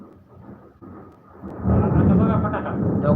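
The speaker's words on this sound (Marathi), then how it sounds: "जोरान इजले मारली ती" Thunder during a heavy rainstorm opens as a low, muffled rumble, then swells into a loud, sustained roar that persists to the end.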